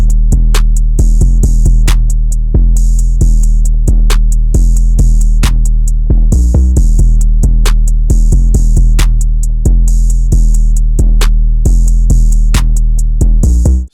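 A remade drum beat built in FL Studio plays loud and dense, with a deep booming bass under snares and quick rolling hi-hats in a steady trap rhythm and no voices.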